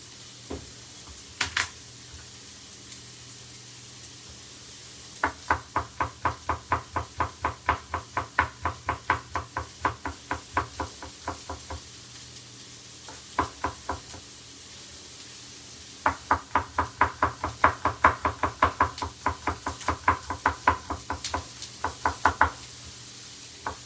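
Garlic cloves chopped with a knife on a board, in quick rhythmic bursts of crisp knocks, close and clear, pausing briefly between runs.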